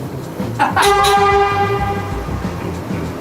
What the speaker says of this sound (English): Oh, gear change in a train.